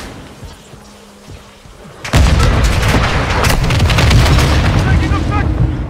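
Grenade explosion in Call of Duty Modern Warfare 2, a sudden loud blast after a quiet stretch, followed by heavy gunfire and booming battle noise that keeps going.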